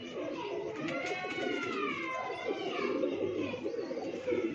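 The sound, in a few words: pigeons cooing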